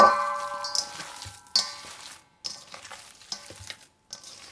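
Meatloaf ingredients being worked together by hand for an air-fryer meatloaf, with soft squelching and stirring of moist mixture against a bowl, a few sharper clinks, in short uneven bursts separated by brief pauses, close and fairly quiet.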